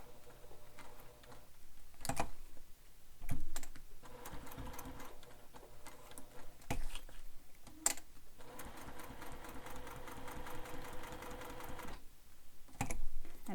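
A sewing machine stitches a zippered wallet in bursts of rapid mechanical clatter, pausing and restarting several times between runs, close and fairly loud with no talking.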